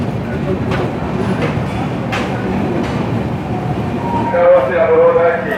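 An express train pulls into Kishanganj station, heard from outside as a rolling rumble with wheel clatter, and a brief high squeal of brakes near the end, while muffled voices talk in the background.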